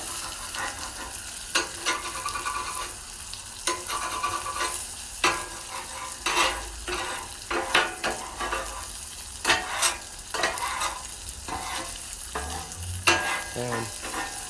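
A ribeye steak sizzles steadily on a Blackstone griddle, a continuous close frying hiss broken by repeated scraping and stirring clatters of a metal spatula throughout, with no voices.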